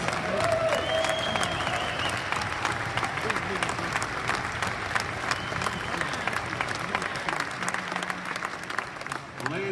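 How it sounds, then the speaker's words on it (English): Audience applause for the developers at a Karatbars conference in Amsterdam, long steady clapping from a large crowd with voices and music-like tones underneath, fading slightly at the end. "Big applause for our developers."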